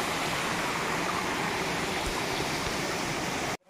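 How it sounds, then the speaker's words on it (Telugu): Heavy, steady roar of a large waterfall at Bugga Waterfalls in Telangana, broadband rushing water filling the whole clip without letup before cutting off abruptly at the very end. "చాలా పెద్ద వాటర్ ఫాల్ అబ్బా"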